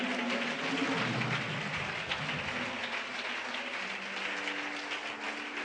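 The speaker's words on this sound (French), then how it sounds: "Est-ce qu'on peut acclamer très fort notre roi ce soir?" Church congregation applauding and cheering loudly in a sustained wash of clapping and voices, steady and dense from start to end with no speech over it.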